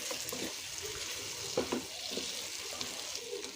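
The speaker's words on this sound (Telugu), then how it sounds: "ఇప్పుడు కొద్దిగా కొత్తిమీర వేసుకొని మరొకసారి కలపండి." Chicken fry with coriander being stirred in a pan: a faint steady sizzle underlies a few soft scraping and clinking strokes of the spoon, with no talk.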